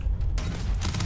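Enemy gunfire in the sci-fi game Starfield during a moon base fight, a loud dense burst of shots with booming low end filling the short moment.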